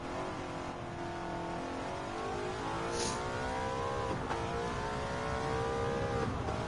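A car engine in Gran Turismo 7 revving up through the gears at high speed, a loud, continuous racing drone rising and dropping in pitch with each shift, with no talk.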